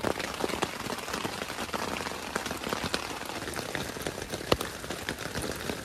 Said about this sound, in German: So haben wir also die Möglichkeit, das Zelt auch nochmal bei Regen kennenzulernen.